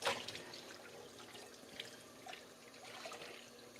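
Something being rinsed under a running tap into a sink, a steady splashing water flow with small drips, fairly quiet and close, no talking.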